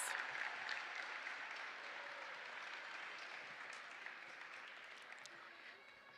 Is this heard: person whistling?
no